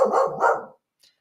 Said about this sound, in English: Right as I click that, my dog was barking.